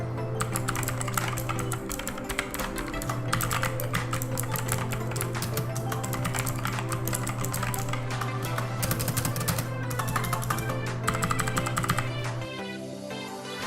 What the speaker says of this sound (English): Here is a quick sample of me typing on this keyboard.